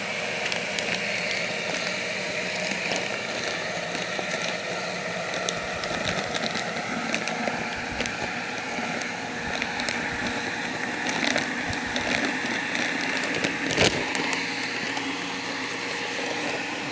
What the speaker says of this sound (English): I turn on my vacuum and kind of hang it over the edge like that.